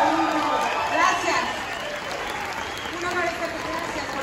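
Theatre audience applauding at an anniversary performance of a Mexico City stage musical, steady massed clapping with crowd murmur, holding even and strong throughout before easing slightly toward the end.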